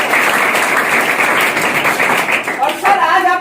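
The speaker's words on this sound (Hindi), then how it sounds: "तो एक बार पावन जी महाराज के लिए जोरदार तालियां हो जाए" Audience clapping at a gathering in Mohammadpur, Darbhanga, honouring a religious guest; dense, steady applause fills the clip, with a voice rising over it near the end.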